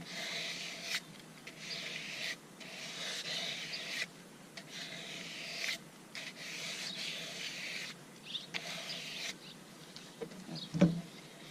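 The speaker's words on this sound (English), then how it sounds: "I'm just going to give it a little hand rub there, just a tiny touch to give that smooth" A hand rubs a turned wooden bowl in steady, soft, close strokes broken by short pauses, with a faint tap near the end and no talking.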